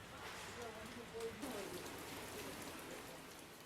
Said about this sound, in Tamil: உதகை நகர் பகுதிகளில் தொடர்ந்து கனமழை பெய்ததால் தாழ்வான இடங்களில் மழைநீர் சூழ்ந்தது